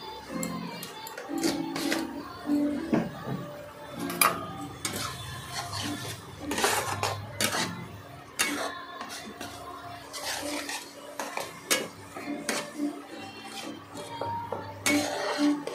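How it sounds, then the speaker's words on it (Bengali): Pieces of bhetki fish seasoned with turmeric and salt are fried and turned in a pan: repeated clinks and scrapes of a utensil against metal, irregular and close, over a light sizzle. "এদিক ওদিক করে সেটাকে ভালো করে ভাজলাম।"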